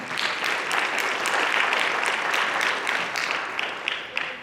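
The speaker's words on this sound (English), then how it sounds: "Let's please give them a round of applause." A crowd at a school signing day event claps for athletic coaches, a steady moderate wash of applause that thins slightly toward the end with a few distinct claps standing out.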